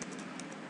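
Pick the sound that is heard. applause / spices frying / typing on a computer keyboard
typing on a computer keyboard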